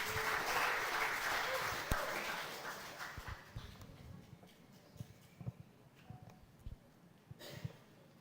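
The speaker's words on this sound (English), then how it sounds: "Ladies and gentlemen, please give him a warm round of applause." Audience applause at an international sports conference, steady broadband clapping filling the hall at the start, then thinning into scattered individual claps and fading toward the end.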